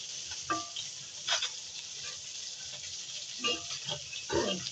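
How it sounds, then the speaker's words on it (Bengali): Dried fish (shutki) frying in a pan gives a steady, close hiss of sizzling oil, with a few short clatters and scrapes from stirring. No one speaks. "আমার শুটকি ভাজা শেষ।"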